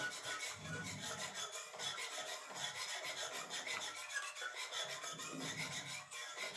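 A powdered-milk kheer mixture being stirred in a pan before the gas is lit, a quiet rhythmic scraping and rasping with regular strokes, close and faint, without speech.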